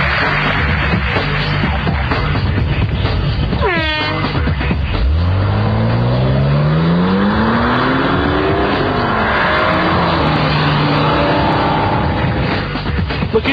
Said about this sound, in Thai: ทั้งรถและก็จรวดออกจากจุดสตาร์ท พร้อมกันเลย